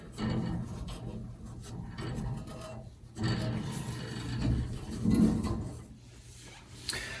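Microfiber towel rubbing crud off a fireplace gas pipe, several close bursts of scratchy, rasping wiping separated by brief pauses, with faint background noise.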